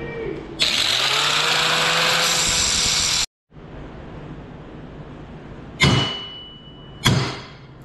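Power tool cutting off part of a metal foot peg held in a vise for a Tao Tao YFZ250 quad, a loud steady grinding whine that stops abruptly, followed by two short bursts.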